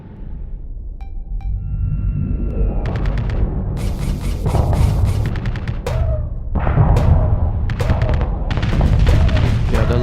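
Gauss cannons fire during a space battle against a Legion in the Starsector video game, producing loud booming shots that repeat in bursts over a continuous heavy rumble.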